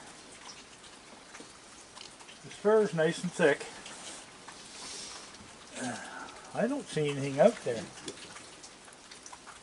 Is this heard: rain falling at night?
yes